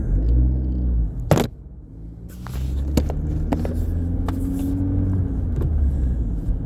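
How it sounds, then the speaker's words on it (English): A Corvette ZR1 drives past outdoors, a steady low engine rumble with a brief louder burst near the start before settling into a sustained drone, no talk heard. "There he goes. Corvette ZR11 it said."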